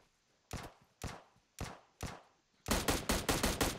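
Gunfire in the mobile battle royale game PUBG Mobile on the Miramar map: four separate loud single shots at even intervals, then a rapid burst of about eight close, sharp shots in quick succession.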